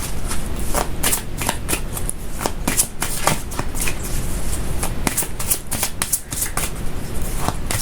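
Gaia oracle cards riffled and shuffled by hand, a dense, continuous papery flutter with crisp slaps, close and fairly loud for several seconds, no talk.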